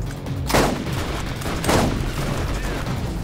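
Gunfire in the video game Borderlands: two loud broadband bursts land about a second apart amid a steady din of game noise, with no voices over it.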